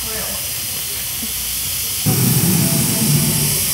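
A dragon figure at a Kyoto ninja park suddenly releases steam with a loud, sustained hiss that begins partway through, following a quieter stretch of broadband outdoor noise.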